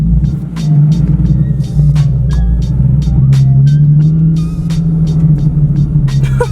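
At a car meet, a car spins a backwards donut with a loud, continuous low engine rumble and revving. Sharp tyre chirps and clicks break in repeatedly over the drone.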